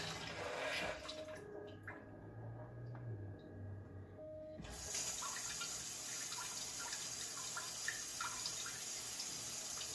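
Water hisses steadily from a Lotus ATS-500 bidet nozzle, a faint continuous spray that drops away briefly before resuming fuller and brighter for the rest of the clip.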